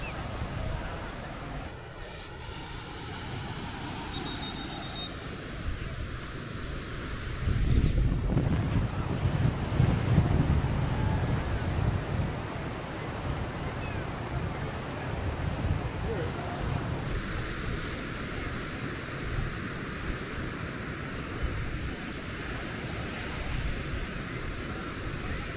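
Strong wind gusts roar across the microphone on an open, exposed field during stunt kite flying, swelling louder partway through and then holding at a steady rush.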